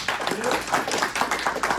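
Applause from an audience at a comics panel event, a crowded clatter of clapping hands that carries on evenly, with a voice faintly mixed in beneath it.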